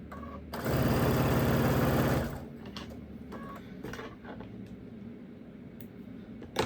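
A sewing machine stitches a cornerstone onto a quilt in one steady, loud run of about two seconds, followed by quieter handling and rustling of the fabric.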